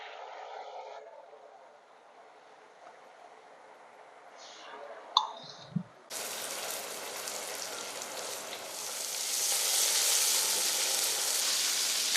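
Pieces of taro root drop into hot oil and set off a loud, steady sizzle that builds and holds. A few clicks and a brief clatter come before it.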